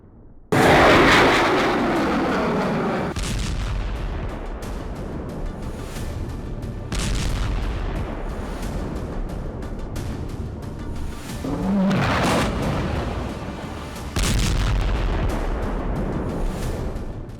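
Heavy bombardment explosions from Israeli strikes on Khan Yunis in Gaza: several loud, deep booms with long rumbling tails, some sudden and sharp, rolling one after another over a continuous low roar.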